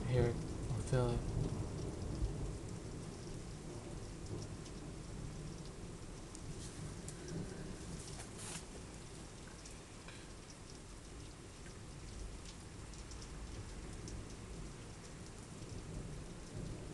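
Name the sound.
rain and thunder during a night storm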